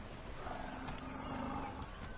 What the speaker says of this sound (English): I think there's a tiger around here.